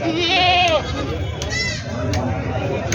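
A goat bleats sharply a couple of times amid market chatter and bargaining voices at a busy goat market in Jawala, Maharashtra.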